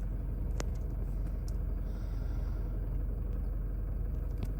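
Toyota Hilux 2021 double cab with the 2.8 D4-D diesel engine running, a steady low idling rumble heard from inside the cab, with a few faint clicks over the drone and no talk.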